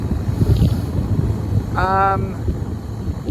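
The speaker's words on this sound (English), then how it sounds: "I imagine the wind is probably blasting across it." Steady low rumbling wind buffeting a microphone at Lake Titicaca, loud and continuous, with a brief faint tonal chirp in the middle.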